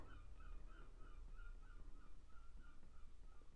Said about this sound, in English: You can probably hear the seagulls in the background.